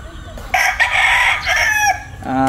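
A red rooster crows loudly and close by, one long drawn-out call broken into a few bursts.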